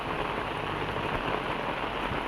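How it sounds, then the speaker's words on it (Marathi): Steady rain falls in a continuous even hiss, fairly faint, with no voices. "ती पाऊस पडता बघा"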